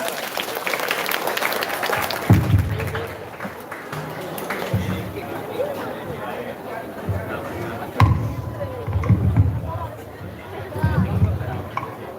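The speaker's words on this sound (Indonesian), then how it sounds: "Tepuk tangan yang meriah." An audience at a school anniversary opening ceremony applauds a choir, with bursts of clapping rising and falling over crowd chatter and a voice speaking through the hall.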